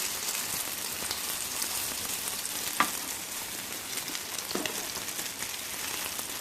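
Aloo tikki potato patties fry in a pan, a soft steady sizzle and crackle of hot oil with a couple of brief clinks as the patties are turned, no voices.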